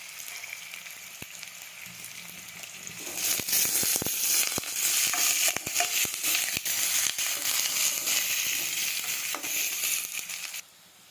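Curry leaves dropped into hot oil burst into loud, crackling sizzling that starts partway through and keeps spitting and popping steadily before stopping abruptly near the end.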